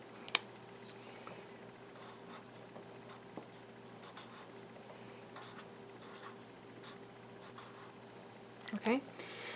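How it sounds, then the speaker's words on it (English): Pen writing a color name on a yarn color card for a weaving project, soft scratchy strokes close by with a sharper tap near the start and a burst of busier scribbling near the end, under faint background hum. "And then I'm going to write the color name."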